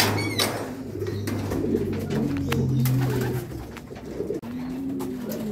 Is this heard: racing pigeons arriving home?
yes